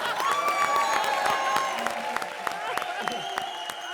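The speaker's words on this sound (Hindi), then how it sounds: "तालियां" A studio audience on an Indian TV comedy show applauds with clapping and scattered cheers under voices and other sounds, loud and close for a few seconds.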